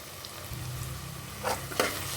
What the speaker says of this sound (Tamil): இஞ்சி பூண்டு பேஸ்டோட பசை வாசனை போகிற வரைக்கும் நல்லா வதக்கிக்கலாம்.